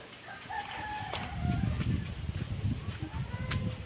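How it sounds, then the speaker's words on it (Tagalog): Chickens cluck and crow on a pig farm. The calls are faint and sit among other birdsong and low farmyard noise, with a little talk in the background. "May manok."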